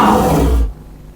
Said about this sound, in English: As Quizzy and his friends enter the next quiz room, they're met with a loud roar.